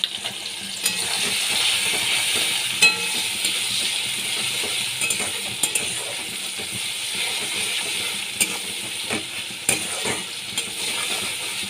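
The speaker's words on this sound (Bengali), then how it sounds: "কিছুক্ষণ ভালো করে আমি কষিয়ে নিচ্ছি মশলাগুলোকে" Mustard, garlic and chili spice paste with salt and turmeric sizzles and fries in a pan for a hilsa fish curry, with a steady hiss and repeated scraping, clinking stirs of a spoon throughout.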